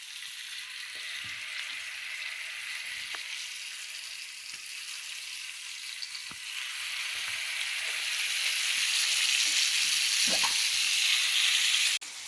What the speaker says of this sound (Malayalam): അപ്പോൾ ചട്ടി ചൂടായി ഇനി ഇതിലേക്ക് മീനിട്ട് എടുക്കാം ഓരോന്നായിട്ട്